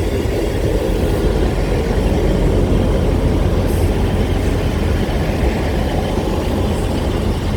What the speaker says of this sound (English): Got a lot of trains coming by.